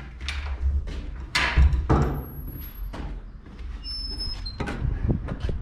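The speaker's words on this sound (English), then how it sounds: "you enter and exit through this door here" Entrance door of an apartment block being opened and closed, with clunks, rattles and a sliding scrape among steady outdoor background noise, fairly close.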